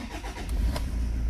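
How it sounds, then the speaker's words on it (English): A 2016 Toyota Fortuner 3.0 diesel with automatic transmission starts with a key, its engine cranking and catching into a deep, loud, rumbling idle up close, with no talk. "The engine roars to life."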